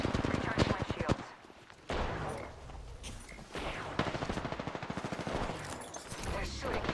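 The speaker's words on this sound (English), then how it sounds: "They're shooting." Enemy squad gunfire in the Apex Legends video game: dense, rapid automatic bursts crackle in repeated volleys across the whole stretch, fairly loud, with brief gaps between salvos.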